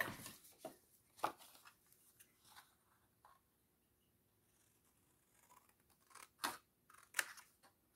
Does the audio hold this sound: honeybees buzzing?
no